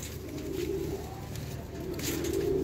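Pigeons coo close by in low, rolling, repeated calls, one bird after another, over a steady background hum with no talking.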